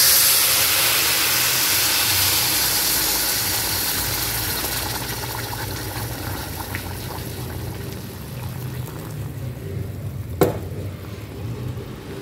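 Water poured into a hot frying pan after sautéing sets off a loud hissing, steaming sizzle that fades slowly over about ten seconds, with one sharp clink near the end and no talk.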